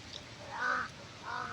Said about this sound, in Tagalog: Bantay kini uwak.